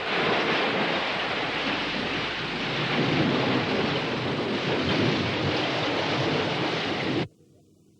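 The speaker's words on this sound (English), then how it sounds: "It's quite a storm, isn't it?" Loud, steady storm roar of heavy rain, crashing surf and gusting wind at high tide, with rumbling thunder underneath, continuing unbroken for about seven seconds before cutting off abruptly to near silence.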